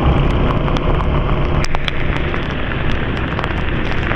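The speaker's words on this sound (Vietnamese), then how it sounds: "trời mưa rất là lớn" Heavy rain pours down on a street in Nha Trang, Vietnam, in a loud, dense, continuous roar with no pauses.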